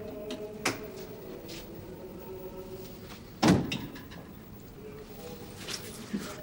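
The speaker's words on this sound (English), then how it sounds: "Close the door." A door shuts in a quiet room, a single dull thud standing out midway against a faint background with other soft knocks.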